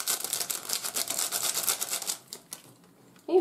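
A whisk beats batter for an apple charlotte pie in rapid, rhythmic clicking strokes that fade and stop partway through, followed by a brief knock at the end.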